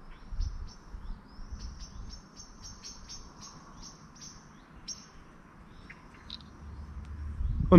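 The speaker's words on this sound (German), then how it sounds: "Das ist ein Vogel." Birds calling outdoors at a castle ruin, Burg Wertheim above the river Main: a rapid series of repeated high chirps dominates the first half, then sparser calls, over steady insect-like background hiss with no speech.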